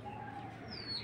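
Kitel pigeons give a brief, soft coo, with faint chirp-like tones over low room noise.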